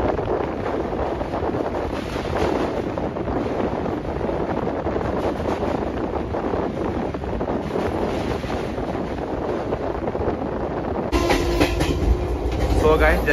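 Circar Express train running between Kakinada Port and Chengalpattu, recorded from on board: a continuous rumble with clickety-clack of wheels and wind buffeting, growing louder and harsher in the last seconds.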